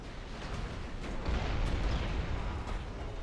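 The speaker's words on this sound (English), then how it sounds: "30 battleships firing on one." Massed battleship guns firing in the naval game Ultimate Admiral, a dense continuous rumble of overlapping heavy booms from many ships at once, loud and sustained with no distinct pauses.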